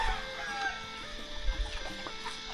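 Chickens clucking in a Phu Thai village, several birds calling irregularly at mid distance over a busy rural background of other faint bird and ambient sounds.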